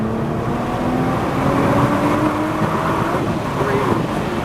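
A Nissan GT-R Nismo or Porsche GT4 RS engine on a racetrack roars loudly and steadily under acceleration, its pitch climbing through the gears, heard from inside the car while an instructor talks over it.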